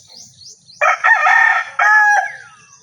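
A rooster crows loudly and close by in two strong, drawn-out bursts, with faint chicken clucking and chirps around them in a quiet yard.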